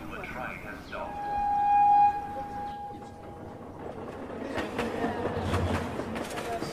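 A local train pulls away, a brief horn tone giving way to a low, rolling rumble and rattling clatter that carries on at moderate, fairly faint level.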